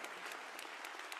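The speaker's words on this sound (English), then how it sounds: "I wonder if we could give another round of applause to the organizers of this amazing event." Audience applause at a Victoria Forum conference session on the economy, honoring the event organizers: a steady, dense wash of clapping from a seated crowd, fairly close and continuous for the whole moment, with no talking over it.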